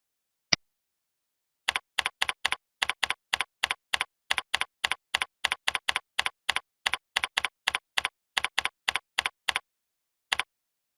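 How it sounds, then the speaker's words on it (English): Computer keyboard typing while a message is entered for an announcement: a single click, then a steady run of about thirty crisp, evenly spaced keystrokes, close and clear with silence between them and no voices. "Then I'll click in the message text box and type a message for the announcement."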